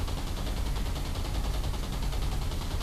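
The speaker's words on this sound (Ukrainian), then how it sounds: "Так, стріляємо, стріляємо." Sustained gunfire in the War Thunder video game, a dense continuous burst of rapid shots rolling on without pause at steady, loud level, with no talking over it.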